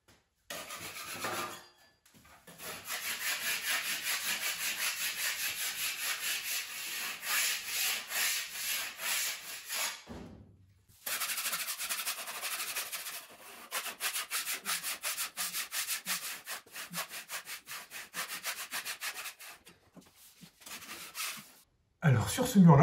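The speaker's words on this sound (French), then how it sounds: "c'est vraiment simplement avec une spatule de venir ici tailler un petit peu les arêtes ou les surcroissances" A spatula scraping excess plaster filler off a kitchen wall: close, rasping strokes in long continuous passes, broken by brief pauses and ending in shorter scrapes.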